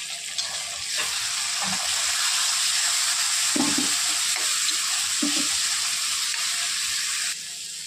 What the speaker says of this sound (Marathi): कांदा लाल झाले। आता टाकत आहोत आपण टमाटा।